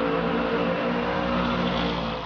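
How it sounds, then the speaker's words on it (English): A muscle car at a drag strip holds a loud, close engine roar with strong steady tonal harmonics, revving evenly without a break for the whole moment. "congregate at this drag strip to enjoy the sights, the smells, the sounds of these muscle cars"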